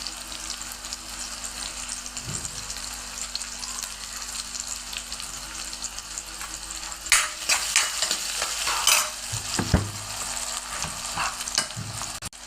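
Eggplant pieces hit hot oil in a pan for a mixed vegetable dish, giving a steady fry-and-sizzle that swells with a few sharper crackles and stirring clatters midway.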